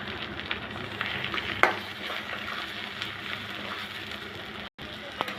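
Chopped tomato going into a pan of reddish fried onions, giving a steady close sizzle with small crackles and one sharper clatter early on, no speech.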